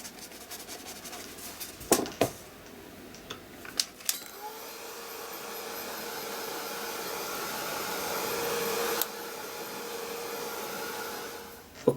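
A hair dryer drying a fan-brush painting of autumn foliage. A few sharp knocks and clicks come first, then the dryer starts with a steady, close whine and blows until the end.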